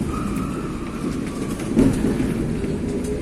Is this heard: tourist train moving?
yes